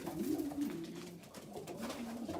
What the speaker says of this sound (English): 40 pigeons.